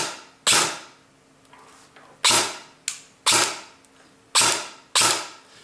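A rifle mechanism, an M16 fitted with a bonnet packing, fires off six sharp, snapping clacks at irregular intervals, each a crisp close-up burst that decays quickly into a quiet mechanical background.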